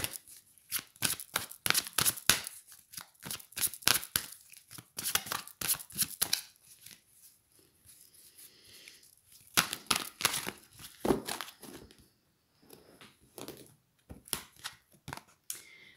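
A tarot deck is shuffled by hand, giving crisp, rapid riffling bursts that alternate with quieter pauses and soft handling as cards are drawn. The sound is close and fairly quiet, with no talking.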